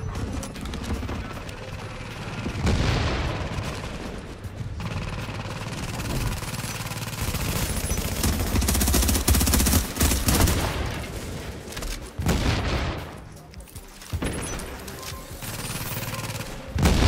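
Turret gunfire in an online shooter video game, bursts of rapid shots and heavy blasts layered with game noise, loud and dense with brief lulls between volleys.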